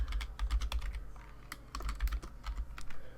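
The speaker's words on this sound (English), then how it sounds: "I'm just gonna type in a couple of things." Fast, busy typing on a computer keyboard while setting up a Garry's Mod server, a dense run of close, crisp key clacks with a brief pause midway and no talk.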